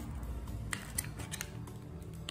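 Metal sewing scissors, barrel-style and other haberdashery shears, handled and set down in a shop display, giving soft clicks and light taps over a steady low background hum.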